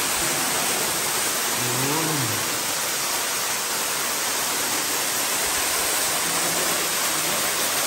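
Water falling steadily inside Otaki Cave in Gifu, a dense, loud, unbroken roar of cascading water that fills the whole space, with a brief faint voice-like tone mixed in.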